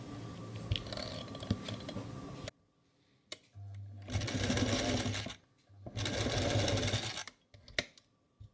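A sewing machine stitches a zip into a long gown, running in two sustained bursts of steady motor whir and needle chatter separated by short pauses, close and clear with no talk.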